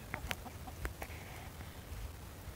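Faint, scattered clucks from a rooster near a hen in a backyard pen, a few soft short calls spread over a quiet, noisy background with no speech.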